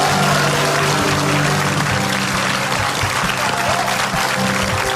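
A studio audience at a TV talk show applauds JKT48 with loud, dense, sustained clapping that fills the room at a steady level, with no pause in the noise.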